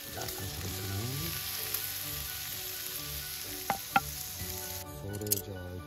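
Tripe (gatsu) sizzling steadily on a grill during autumn solo camping, a close, continuous frying crackle with a few sharper pops and faint stirring or scraping sounds, no talking.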